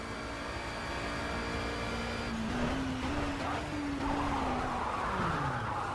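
A race car engine drones and its pitch wavers as the car spins out after a downshift from second gear, with tire scrubbing noise filling the track audio, no voices.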